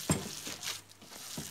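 Burger meat mixed with its ingredients is kneaded by hand, giving a few soft, wet squelches and pats, faint and close, with no voices.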